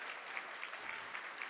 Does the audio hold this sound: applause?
yes